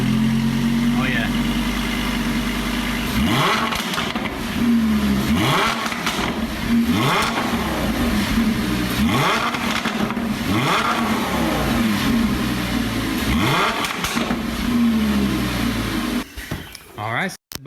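A Lamborghini Huracan in Corsa mode revs repeatedly, each blip of the throttle rising and falling in a deep, loud exhaust bark, about seven bursts in a row with short gaps before it cuts off.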